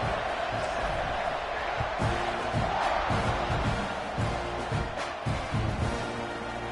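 A college football stadium crowd at Texas A&M versus Colorado roars after a scoring drive, a steady dense mass of cheering at a distance, with a commentator talking over it.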